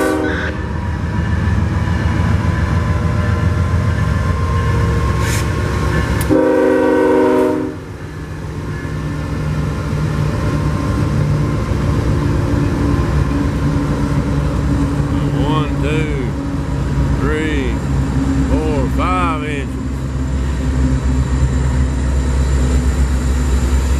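A long freight train pulled by five locomotives with two more pushing rumbles past on a slight grade, engines chugging and wheels droning steadily, with a loud horn blast partway through and someone talking over it.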